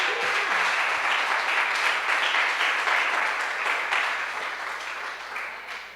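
A church congregation applauding at an evening service, dense steady clapping from a large crowd that slowly fades, with a brief voice at the start.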